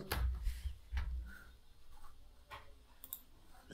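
A few soft, sharp clicks like a computer mouse, spaced out and fairly close, in an otherwise quiet room.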